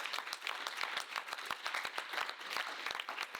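Audience applause at a family panel event, a dense patter of many hands clapping at moderate distance, steady and sustained throughout.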